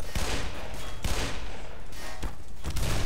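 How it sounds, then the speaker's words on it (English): Enemy gunfire in the shooter game Black Mesa rattles in repeated bursts of loud, close shots, with dense volleys recurring every second or so and no talking. "They really love taking pot shots at me, don't they?"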